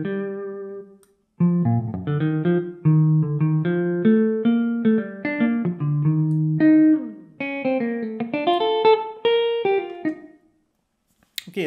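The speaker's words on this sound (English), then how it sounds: "Also you can add some random resonance of the strings," A sampled archtop electric guitar plays clean, separate plucked notes and short phrases with a ringing, resonant tail, moving up and down the neck and then fading into a brief silence.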